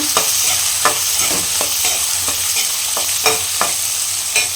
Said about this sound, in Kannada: ಹಾಗೆ ಈರುಳ್ಳಿನೂ ಹಾಕ್ಕೊಳ್ಳೋಣ ಚೆನ್ನಾಗಿ ಫ್ರೈ ಮಾಡ್ಕೊಳ್ಳೋಣ